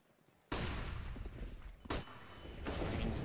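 Rifle fire during a Counter-Strike match on the Inferno map, loud sustained bursts of automatic gunfire in dense sprays with a brief break, then another volley.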